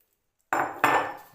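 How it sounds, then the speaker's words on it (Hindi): Chopped vegetables for bread pocket filling tipped into a large mixing bowl in a home kitchen, giving two close, loud clattering thumps of food and utensil against the bowl about a third of a second apart, with no talk. "ये जो वेजिटेबल है ये मैं एक बड़े बोल में ट्रांसफ़र कर दूँगी"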